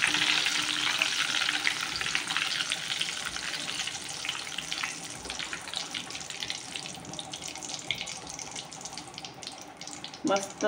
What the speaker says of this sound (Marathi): चिप्स वरती तरंगून आले की समजायचं की ते झाले आहे।